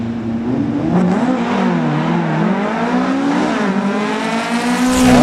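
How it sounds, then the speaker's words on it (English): Two closely matched street challenge drag cars launch and roar down the track together, a loud, sustained engine wail that shifts pitch as they accelerate away, with no talking. "The cars look like they're tied together with a chain as they go down the track."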